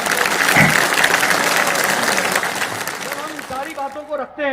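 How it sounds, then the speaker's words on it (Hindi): A large crowd at an outdoor BJP political rally in Hayaghat bursts into loud sustained applause welcoming leader JP Nadda, the clapping steady and dense before thinning out as a voice begins speaking over the tail end. "एक जोरदार ताली से इनका स्वागत करियौ"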